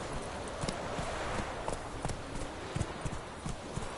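Hooves of Roach, Geralt's horse in The Witcher 3, clip-clop in a quick, steady gallop rhythm over a noisy outdoor game ambience, close and fairly faint.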